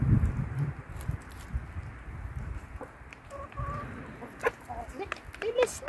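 Hens clucking in a backyard flock, scattered short calls over a rustling, noisy background with a few brief sharper clucks near the end; no clear speech.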